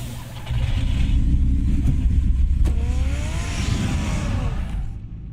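Batmobile engine from the video game Batman: The Telltale Series, a loud, steady low rumble with rising revving tones, sustained throughout before fading slightly at the end.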